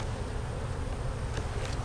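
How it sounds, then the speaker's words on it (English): Honey bees buzz inside a beehive, a dense continuous drone that stays steady and close with no voices. "There's a lot of bees left in here"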